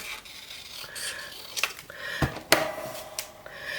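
Card paper for a pocket is trimmed with short scraping, rasping cuts and a few sharp clicks, close and moderately quiet, with no speech.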